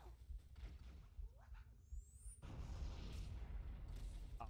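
A grenade detonates in Halo, a sudden deep boom that gives way to a loud sustained rumble of combat noise, with a rising whoosh just before it.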